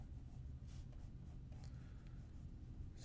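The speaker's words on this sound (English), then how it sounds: "let me just sketch something else out" Pencil sketching on paper, a soft continuous scratchy rasp of graphite strokes held close and quiet, with steady faint shading and short flicks throughout.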